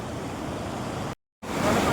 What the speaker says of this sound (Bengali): এই যে জল একদম নিচের দিকে বয়ে যাচ্ছে